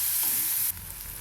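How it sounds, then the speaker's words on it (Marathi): Chopped onion and tomato sizzle briefly in a hot pan as they are stirred, a short close hiss that softens partway through, with no voices. "टोमॅटो ॲड करूया. छान हलवून घेऊ त्याला."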